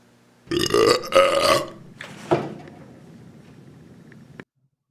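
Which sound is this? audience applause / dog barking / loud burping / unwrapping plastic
loud burping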